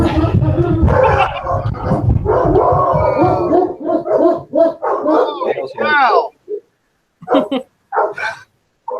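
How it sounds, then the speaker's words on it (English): A dog at home barking and howling, loud and close, in a burst of yelps and drawn-out howls that thin into a few short barks, with a person speaking over and between them. "my dog goes nuts"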